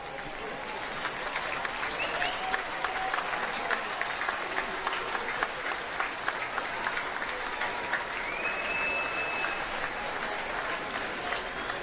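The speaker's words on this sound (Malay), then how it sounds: "Itulah tadi audio penonton" Stadium crowd at a Hassanal Bolkiah Trophy under-21 football match between Cambodia and Timor Leste, a continuous wash of cheering, clapping and horn-like toots, moderately distant and steady throughout.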